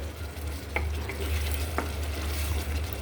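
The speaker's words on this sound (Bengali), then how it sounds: "দেখতে পাচ্ছেন আমাদের কুমড়ি বড়ি এবং মশলাটা ভালোভাবে কষায় নিচ্ছে" Pumpkin lentil dumplings (kumro bori) sauté in spice paste, giving a steady low sizzle with a few faint spoon scrapes over a constant background hum.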